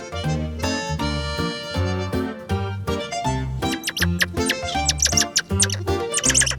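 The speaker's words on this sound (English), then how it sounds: "those monkeys are making a lot of noise" Monkeys in a Sumatran forest setting calling back and forth, a dense, loud chorus of rising chirps, squeaks and tonal whoops that grows busier and more frantic toward the end.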